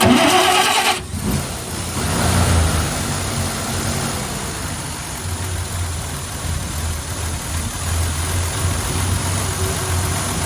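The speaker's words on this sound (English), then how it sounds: "Sounds like a 6-cylinder." Inline six-cylinder Studebaker engine with a Carter carburetor cranks briefly, then catches and settles into a steady, even idle that runs loudly and close.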